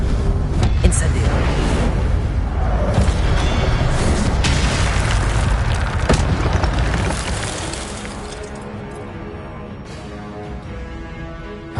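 Incendio fire spell in Hogwarts Legacy: a loud roaring burst of flame and rumbling booms that fade out toward the end, with a voice speaking over part of it.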